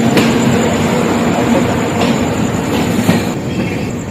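An express train arrives fast at a station platform in India, a loud continuous roar of rolling railcars with clattering wheels and a faint squeal, heard close with no talking.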